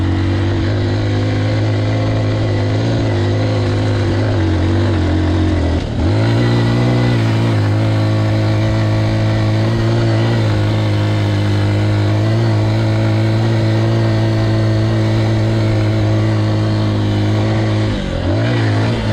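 Honda XR150L motorcycle climbing an off-road hill in second gear, its engine droning loud and steady throughout, with a brief dip and shift in pitch around the middle and another near the end, no talking.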